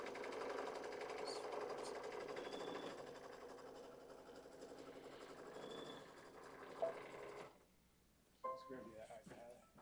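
An embroidery machine stitches a tack-down outline for a shape form with a rapid, steady mechanical whir for several seconds, then falls quiet. Faint voices can be heard in the room.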